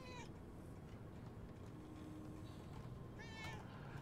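Meowing from a cat in the video game Murdered: Soul Suspect, a few faint high mews at the start and again near the end over a low steady game background.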